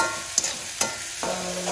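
Ingredients for coto makassar being stir-fried in a pan, a constant sizzle broken by a few sharp spatula scrapes and clinks, close and without talk.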